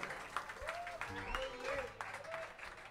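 Concert crowd applauding at the Black Note Club, a broad wash of clapping with voices and cheers mixed in over it.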